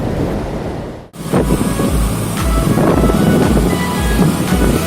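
Waves wash onto a beach at Havelock Island in the Andaman Islands, a steady broadband rush with rhythmic surges and some wind buffeting the microphone, loud and close after a brief dip at the start.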